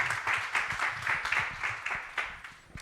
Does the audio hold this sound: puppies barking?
no